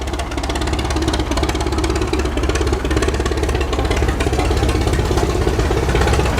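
Old stationary engine runs smoothly at a steam and gas engine show, giving a steady, close, continuous chugging with an even knocking rhythm throughout.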